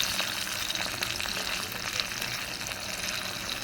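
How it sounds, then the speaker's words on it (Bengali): Live singhi fish fry in a pan over a wood fire with a steady, close crackling sizzle and no pauses. No one speaks. "আর আমার এখানে মাছ ভাজা হচ্ছে।"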